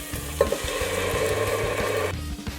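Tomatoes hit hot olive oil with minced shallot and shaved garlic, giving a loud, steady sizzle with a brief sharp clatter near the start and stirring scrapes throughout, dropping off toward the end.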